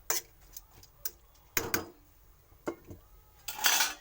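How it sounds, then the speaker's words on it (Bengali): Fish and gourd greens are stirred together in a cooking pot, giving a few separate metal clanks and scrapes of a utensil against the pot, then a louder, longer clatter near the end as the lid goes on. Close, with no talking. "এর মধ্যে ভালোভাবে মিশিয়ে দিয়ে ঢাকা করবো"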